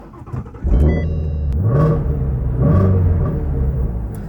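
A Ford Mustang Shelby GT350 cranks and fires up close by. It settles into a deep, steady idle, then gives two short blips of revs before dropping back.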